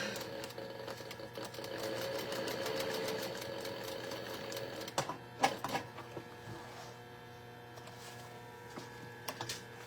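A sewing machine stitching a crossbody bag runs in a steady rapid whir for several seconds, then stops and starts in short bursts with clicks of handling, close and quiet, no speech.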